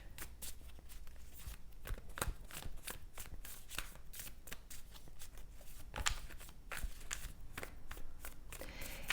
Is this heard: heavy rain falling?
no